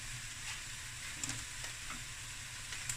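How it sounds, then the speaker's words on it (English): Rice and mussels stir-frying in a pan, a constant close sizzle with a few faint clinks and stirring touches, no speech. "now you just fry it"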